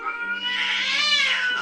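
A cat gives one long, drawn-out, wailing meow, loud and close, rising and then falling, with no voices over it.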